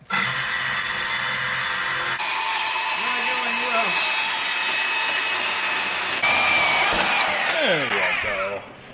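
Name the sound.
reciprocating saw (Sawzall) with wood blade cutting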